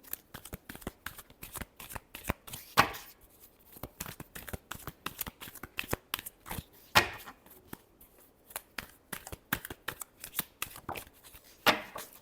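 Tarot cards are shuffled by hand in quick, dense riffling bursts over about twelve seconds, close and fairly quiet, with a few louder snaps and no talking.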